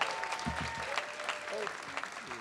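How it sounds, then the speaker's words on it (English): Steady applause from a crowd at an awards segment of San Diego's Pride kickoff event, with a voice speaking over the clapping throughout. "One more round of applause for all of our awardees tonight"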